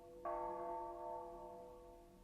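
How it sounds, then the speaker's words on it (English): A single bell from the video game Persona Q strikes once and rings on with a long, steady, slowly fading tone, alone and fairly quiet. "We heard that bell from our world, too."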